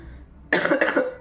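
A person with a sore throat coughs several times in a loud, close burst, rough hacking bursts in quick succession after a short quiet pause.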